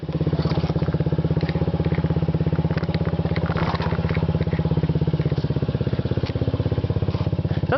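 A 2009 Honda Ruckus 50cc scooter fitted with a Yoshimura TRC aftermarket exhaust rides along the road, its small engine putting out a steady, rapid buzzing putter with some wind noise and no speech.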